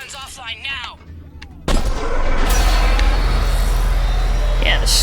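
A heavy cannon in Mass Effect 3 fires with a sudden deep boom, then a loud, sustained rumbling roar. Before the blast, a voice speaks over quieter game sounds.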